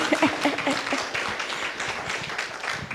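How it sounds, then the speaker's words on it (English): An audience applauds at a fiber network launch event, a brief dense patter of hand claps at moderate loudness throughout. "That deserves a clap."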